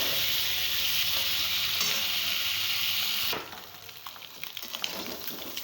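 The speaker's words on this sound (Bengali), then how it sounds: "প্রথমে ডিমটা ভেজে নেব ভালো করে।" An egg fries in hot oil in a pan with a loud, steady sizzle that suddenly drops to a softer crackle with scattered pops and scrapes.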